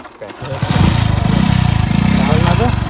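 A motorcycle engine starts and settles into a loud, close, steady throbbing idle, with voices talking over it.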